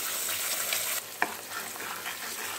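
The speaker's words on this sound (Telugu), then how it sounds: "జీలకర్ర, ఎండుమిర్చి, వెల్లుల్లి రబ్బలు, కరివేపాకు, ఇంగువ కూడా యాడ్ చేసుకున్నామండి" Cumin, dried red chillies, garlic cloves, curry leaves and asafoetida sizzle steadily in hot oil for a tomato rasam, with a soft stir and a brief clink partway through.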